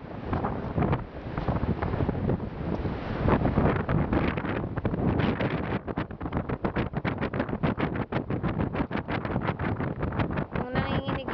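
Strong wind at Dumaluan Beach, Bohol, buffeting the microphone with heavy rumbling gusts, turning into rapid fluttering pulses as it keeps blowing.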